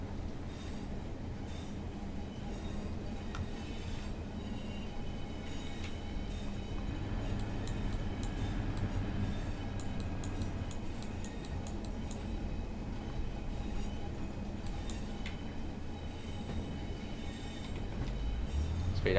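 Simulated British modern Pacer train running on rails past a depot in Cardiff within Train Sim World, a steady rumbling roll with faint ticking wheel-rail clicks throughout, close and continuous with no talk.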